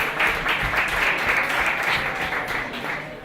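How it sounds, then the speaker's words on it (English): Dense, steady applause from a conference audience welcoming a startup founder on stage at a startup competition, sustained and fairly loud throughout with no break. "let's give her a warm round of applause"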